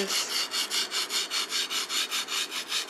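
Blade of a sashimi knife drawn flat across a whetstone to polish the edge, giving a steady series of about a dozen close, rhythmic wet scraping strokes with no voices.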